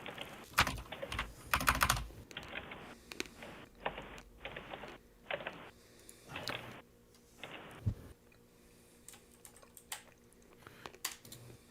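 Typing on a clicky mechanical keyboard with blue switches, heard as irregular bursts of crisp close keystrokes with short pauses between them, fairly quiet and without talking.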